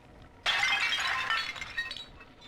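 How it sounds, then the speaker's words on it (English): A porcelain tea service in the Louis XV style shatters in the game Bioshock 2, a sudden loud crash followed by a scatter of tinkling shards that fades over about two seconds. "This, I think, is a porcelain tea service in the style of Louis XV."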